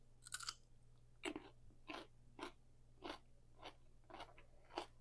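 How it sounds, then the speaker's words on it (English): Someone bites and chews a lightly salted homemade cucumber pickle, producing about nine crisp, evenly spaced crunches, close and clear over a faint steady hum. "Listen to the crunch."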